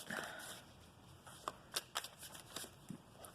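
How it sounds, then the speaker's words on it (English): Quick riffling bursts of a tarot deck being shuffled, a flurry of crisp flicks at first, then a few separate snaps, close and quiet. "One more shuffle here."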